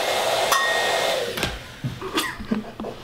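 A handheld blow dryer runs with a steady, loud airy whoosh for about a second and a half, then trails off while sharp knocks and thuds follow.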